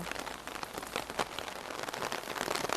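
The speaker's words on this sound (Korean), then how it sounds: "지금 비가 조금 오기는 하는데" Light rain falls steadily over a garden in Jeju on a winter day, a dense, even patter of drops close by with no voices.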